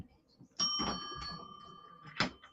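Doorbell-style chime rings twice on a morning radio show, a sustained ding tone ringing out then a second strike near the end, with studio background noise around it.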